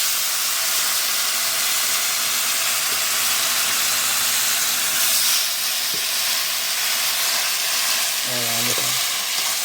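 Meat dropped into a hot cooking pan for a Filipino home-cooked dish sizzles and hisses steadily at close range, with a brief clatter of utensils near the end.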